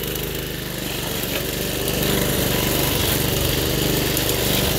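A Toro 53 SP self-propelled lawn mower, just repaired and with a worn-out blade, runs steadily at a loud, close, unbroken engine drone while it cuts a trail through the grass.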